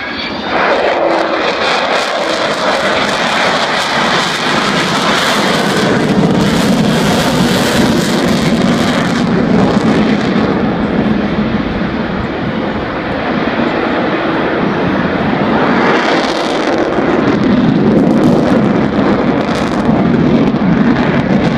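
Avro Vulcan jet bomber at the Farnborough airshow makes a loud, sustained engine roar as it sweeps past, with a rumbling swell and a brief rising howl toward the end. No voices are heard.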